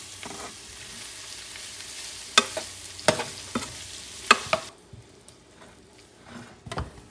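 Vegetables cook gently in a pan over low heat, a soft sizzle broken by several sharp scraping and stirring knocks, then a quieter simmer with occasional utensil taps.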